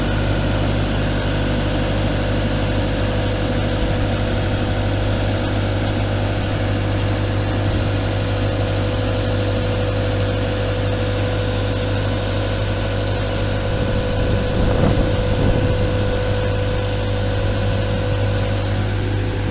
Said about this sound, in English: So extending the boom.